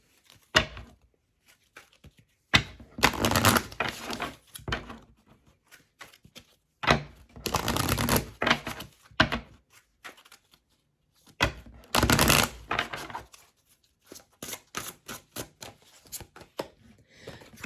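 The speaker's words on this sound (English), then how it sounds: "oops, I didn't shuffle. Let me shuffle." Tarot cards being shuffled by hand in three separate bursts of crisp riffling and flicking, close and fairly quiet, with soft handling clicks between bursts and no talk.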